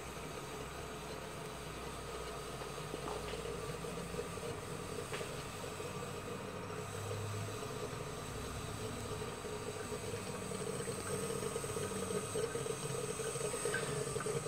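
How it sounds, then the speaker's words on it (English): A vintage Empire coffee percolator bubbles and gurgles continuously, a steady close churning of boiling water with faint pops and spits, holding an even level throughout with no talking. "Once this thing really picks up, it percolates like mad."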